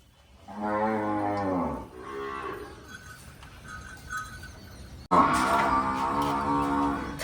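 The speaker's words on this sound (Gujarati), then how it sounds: "જો કાકા, કાકા જો આને ગાય કહેવાય" A Kankrej cow on a Banaskantha farm moos twice, a long loud low call and then a shorter one, followed by a pause with faint background noise and a final loud, close moo.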